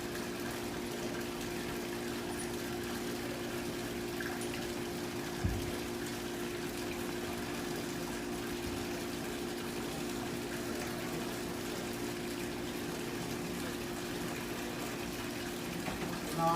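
Water flowing through pipe fittings on an Armfield fluid friction apparatus, a steady, even hum and rush of flow with pump-like tones, continuous throughout with one brief knock midway.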